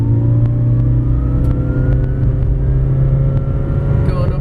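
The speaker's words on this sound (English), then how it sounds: "we'll go ahead and accelerate and just show you what this thing can do" A 2011 Toyota Prius pulls away from a standstill and climbs a hill toward 60 mph, its engine and road noise a steady, loud, continuous drone that holds throughout.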